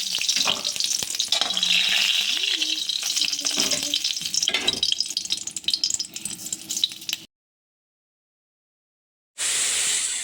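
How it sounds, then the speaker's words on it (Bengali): Lentil dumplings (bori) fry in hot oil in a wok with a dense, close sizzle and stirring rattles for about seven seconds. Silence follows, then a brief sizzle returns. "আমি কড়াইটা গরম করে তেলটা গরম করে আমি বড়িগুলো ভেজে নিচ্ছি"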